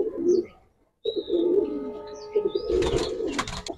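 Large pigeons coo nearby in repeated low, burbling calls separated by a brief pause, with a few faint chirps mixed in.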